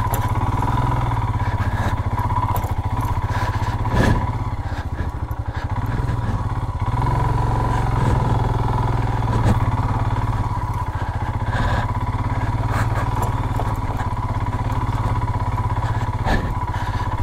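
Off-road motorcycle climbing a steep, unmapped track in first gear in winter Sikkim, a continuous low engine drone with a steady thrum, punctuated by rattles and clunks of the bike over rough ground.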